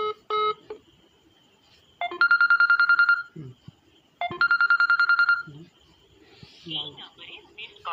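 Telephone keypad dialing tones followed by two bursts of rapid electronic ringing on a live phone call, loud and clear with pauses of quiet between them, and a faint voice near the end.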